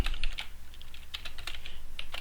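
Java code typed on a computer keyboard in the Eclipse editor, a quick run of close, crisp key clicks in an uneven rhythm, with no speech over it.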